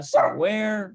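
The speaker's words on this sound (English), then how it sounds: "You'll have to excuse my dog. He's a bit of a barker." A pet dog lets out a short yelp that trails into a drawn-out whining howl, close and fairly loud, with a person speaking briefly just before it.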